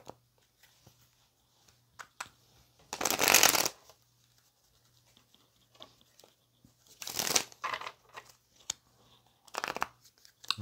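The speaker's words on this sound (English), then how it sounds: "let's go ahead and get some tarot out on the table. Let's get one more shuffle" Cards are shuffled in three short riffling bursts separated by quiet pauses, close and crisp, with soft handling noises in between.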